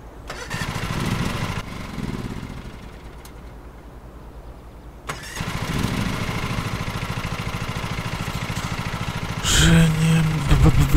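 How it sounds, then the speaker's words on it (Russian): A lawn mower engine in Lawn Mowing Simulator cranks and sputters a few times, pauses, then catches and settles into a steady mid-pitched idle that rises louder near the end, with no talking over it. "Запустить двигатель косилки."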